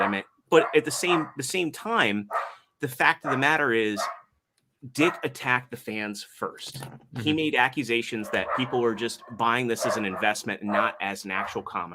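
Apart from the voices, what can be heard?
dogs barking in the room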